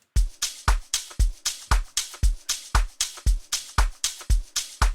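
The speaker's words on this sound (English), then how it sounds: "private school drums," A private school amapiano drum loop from a free MX sample pack, punchy, close and steady with deep kicks and snappy hits in a tight repeating groove, no talk.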